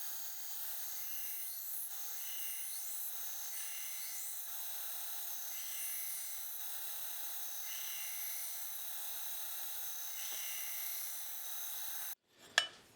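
Bevels being ground on a forged hunting knife blade, a steady high-pitched whine of the grinder with repeated rising and falling sweeps as the blade passes over, continuous for about twelve seconds before stopping abruptly with a clunk.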